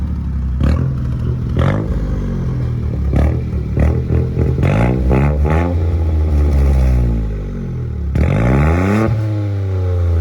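Renault Clio IV 0.9 TCe three-cylinder engine with a new exhaust, idling loudly and close, then blipped repeatedly into sharp revs that fall back, with a longer rev near the end.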